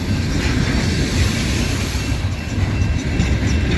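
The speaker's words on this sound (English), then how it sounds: "So we will see what happens as this train slows into the siding." CSX freight train hopper cars roll past close by, a steady rumble of wheels with rhythmic clacking over the rail joints and faint squealing.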